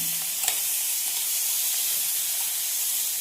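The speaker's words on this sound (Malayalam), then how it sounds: "ഉപ്പിട്ട് 4 ആക്കി പൊളിച്ച പൊള്ളമുളക് നല്ലെണ്ണയിലൊന്ന് വറുത്തെടുക്കുകയാണ്" Continuous bright sizzling of salted, split dried chillies frying in hot sesame oil, steady and close, with a faint clink near the start.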